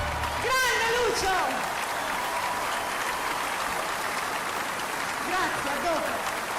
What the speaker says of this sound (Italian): Un grande applauso a questo grande artista!